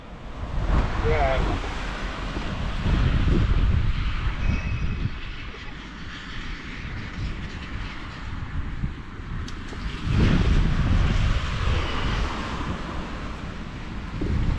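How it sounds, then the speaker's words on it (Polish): Strong wind outdoors on a wide road in Kazimierz Dolny, roaring and buffeting the microphone in surging gusts that rise and fall, with a person talking over it. "ale wieje mi po uszach"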